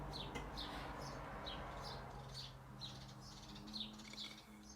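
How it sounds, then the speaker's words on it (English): Several birds chirp in short repeated bursts over a low background hum, fairly faint and somewhat distant. "These birds is too loud."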